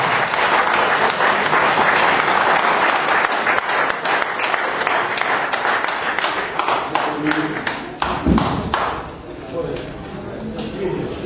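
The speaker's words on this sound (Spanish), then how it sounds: "Con ustedes un fuerte aplauso al congresista Manuel Carmen Eguavino." Applause for a congressman at a public hearing in Arequipa, Peru: a crowd claps loudly and steadily throughout, with dense sharp claps that thin out slightly toward the end.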